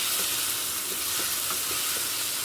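Ginger garlic paste fries in oil in a pan with a steady, close hiss and light crackles, alone without voices.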